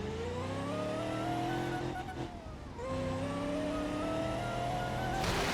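A car in the BeamNG driving game sends out a steady, loud engine drone that climbs in pitch as it accelerates. The sound dips briefly partway through, then keeps pulling, and a crash follows. No one speaks.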